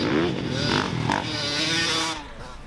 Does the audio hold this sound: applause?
no